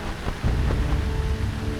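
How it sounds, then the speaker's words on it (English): Heavy rain pours steadily as a story sound effect, a dense continuous downpour with a low rumbling thunder-like undertone, loud and close with no voices. "The rain fell harder and harder."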